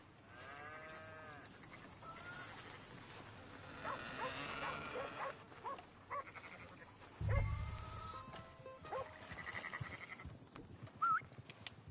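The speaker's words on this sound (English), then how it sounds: "That's a dog in there." Dog in the Red Dead Redemption 2 video game whimpering and whining in short, uneven bursts, mixed with livestock-like animal calls and a thud, heard faintly against a quiet in-game ambience.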